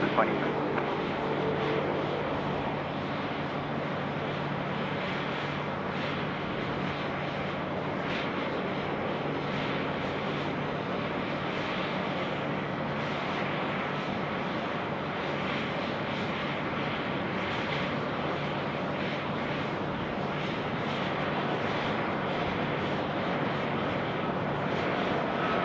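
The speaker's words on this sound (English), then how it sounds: "Great livery there, the China Southern 787." A China Southern Boeing 787 airliner at Sydney Airport gives off a steady, broad jet engine roar that holds for the whole stretch, loud and constant, with a person talking over it.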